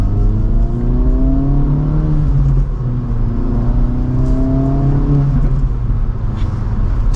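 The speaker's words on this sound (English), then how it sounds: "And we'll do one last acceleration." A 2024 Acura Integra Type S accelerating hard through the gears, engine note climbing loudly in steady sweeps with brief drops at shifts, heard close from inside the cabin with no talking.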